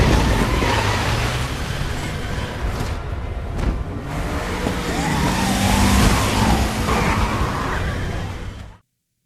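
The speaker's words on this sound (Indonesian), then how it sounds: "menggunakan mobil milik Leon." Leon's car driving in the Resident Evil video game on the way to Raccoon City, a steady loud engine roar with whooshing road noise and revving that holds throughout before cutting off abruptly.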